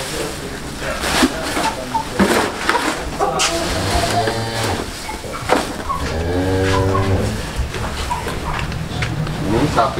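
Large Pegon cattle at a farm moo loudly and repeatedly while feeding at afternoon mealtime, the deep, drawn-out calls mixed with munching and barn noise, close to the microphone.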